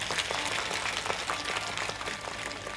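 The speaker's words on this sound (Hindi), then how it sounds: "इसलिए ताली बजा लीजिए अपने लिए।" An audience at a devotional Bhagavat Katha gathering claps together, giving dense, continuous applause that holds at an even level for the whole stretch.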